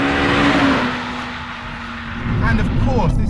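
Honda Civic Type R FN2 with a naturally aspirated 2-litre VTEC engine revs loudly, the engine note rising then easing off before picking up again; close and continuous, with some tire or road noise near the end.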